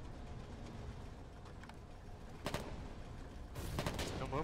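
Gunfire in the trench-warfare video game Foxhole, with scattered distant shots over a low rumbling battlefield that grow into a louder volley near the end.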